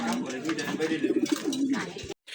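Racer pigeons coo in a low rolling burble at a pigeon sale, a few soft throaty pulses close by with voices and market noise around them.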